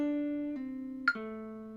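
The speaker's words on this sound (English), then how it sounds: "So that, with the blues note, it's going to sound like this." A lead guitar lick built on a blues note, played with hammer-ons and pull-offs: a few sustained clean notes that slide between pitches, with a brief bright attack partway through, heard alone and fairly quiet.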